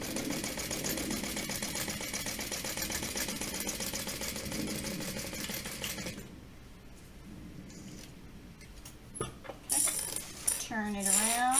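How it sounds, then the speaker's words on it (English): A sewing machine stitches long seams on a tote bag, running as a steady fast rattle for several seconds, then stopping, followed by a few faint clicks and handling sounds. "are going to stitch down the 2 long lines on this"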